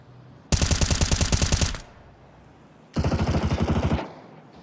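Two bursts of rapid automatic AK rifle fire sound in a Counter-Strike esports match, each a loud, close volley of about a second, separated by a brief quiet gap.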